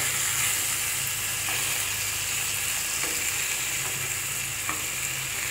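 Food fries in mustard oil with a loud, steady sizzle and hiss that lasts the whole time. Now and then a utensil clicks faintly against the pan, and no voice is heard.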